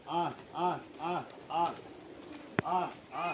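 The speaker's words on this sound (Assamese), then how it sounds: "পাৰ চৰাইখিনি মাটিত নামি দানা খাই আছে" Pigeons feeding on grain on the ground at a pigeon farm coo in a steady repeating rhythm, soft throaty calls close by, with one sharp click partway through.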